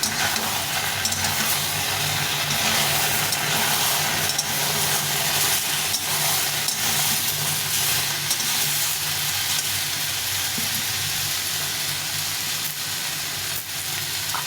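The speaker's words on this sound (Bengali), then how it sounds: "আদা আর জিরেটা জলে গুলে দিয়ে দেবো। একটু ভালো করে ভেজে নেব।" Ginger and cumin paste mixed with water fries in a pan for a dish of shukto, giving a steady, loud, continuous sizzle with faint stirring, no voices.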